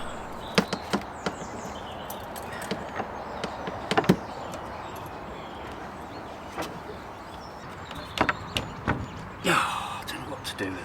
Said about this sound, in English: the first thing I've got to do is try and open the door, and it's all jammed